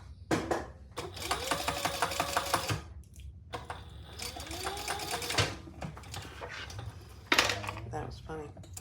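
A sewing machine closes the turning hole of a zipper pocket on a Jeanniebag shoulder bag in quick rhythmic bursts, running a few seconds, pausing, then starting again, with small clinks of metal between runs.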